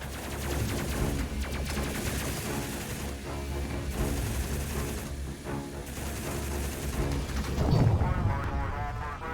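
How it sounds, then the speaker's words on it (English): A ship's autocannon in the space game Space Crew fires sustained rapid bursts, a dense rattling barrage with booming impacts that swells louder near the end, close and continuous. "So the shield's down, so we'll switch the autocannon."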